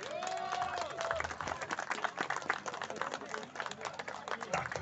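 Fairly faint audience applause and clapping for an actor at a public draw event, crisp and steady for several seconds, with a brief voice or tone at the start.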